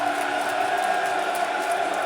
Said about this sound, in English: You can hear the crowd. It's an immense atmosphere.